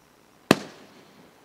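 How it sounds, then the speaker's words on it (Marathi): A single sharp firework bang cracks out at the opening of a cricket tournament, then a short fading echo trails off, moderately distant, with no talking. "फटाक्यांच्या आतिषबाजीमध्ये मात्र स्पर्धेचा शुभारंभ होतोय."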